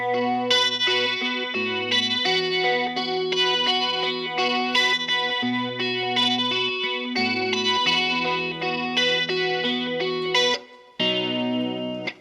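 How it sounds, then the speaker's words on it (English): An electric guitar plays a low, steady bass-line riff through a swirling flanger effect with some distortion, the notes changing in a repeating pattern, loud and continuous with no talk, ending in a brief pause and one last phrase. "I'll turn my flanger on."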